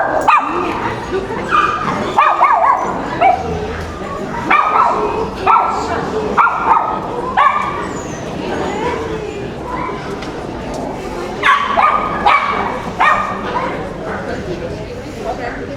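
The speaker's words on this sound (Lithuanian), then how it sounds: "žiūrėk, čia maži šuniukai" Small puppies yip, whimper and bark in quick, repeated bursts close by, with people talking over and between the yaps in a busy public setting.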